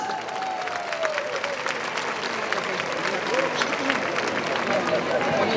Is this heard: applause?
yes